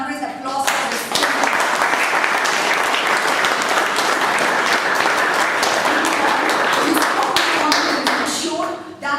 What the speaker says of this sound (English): I want a real big thunderous applause for this.